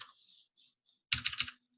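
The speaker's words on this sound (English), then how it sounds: "There's a lot of typing." Brief bursts of typing on a computer keyboard during a styling tutorial, a few soft key clicks followed by a loud rapid flurry of keystrokes close by, with no talking.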